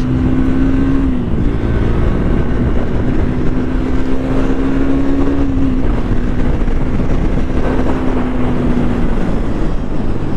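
A motorcycle with its stock exhaust line accelerates hard, its engine roaring loud and close in one continuous drone. The pitch climbs and drops back in steps as it shifts through gears, with wind rushing over everything and no talk.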